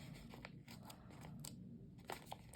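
Scissors snip through a dusty sticker sheet in a handful of quiet, uneven cuts over a steady low room hum.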